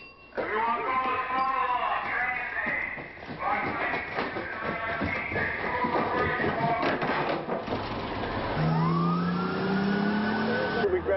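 A fire engine siren in a video game wails in rising and falling sweeps under continuous talk and game noise, then a clearer rising siren sweep takes over near the end.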